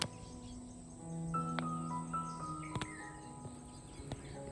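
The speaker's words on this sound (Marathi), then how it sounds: "फक्त पक्ष्यांचे किलबिलाट ऐकू येत आहेत" Birds chirp outside the Someshwar stone temple in the Konkan region, with a few short calls over a steady insect and cricket drone in a calm, quiet setting.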